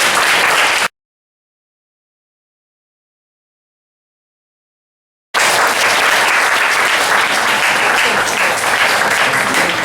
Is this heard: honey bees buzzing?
no